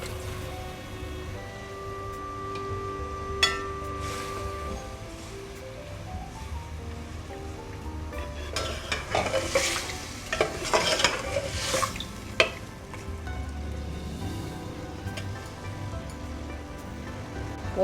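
Prawns frying in a pot for prawn pulao, being stirred: a steady sizzling hiss with scraping spoon strokes that grow louder and busier midway, plus a few sharp clinks, close and without talk.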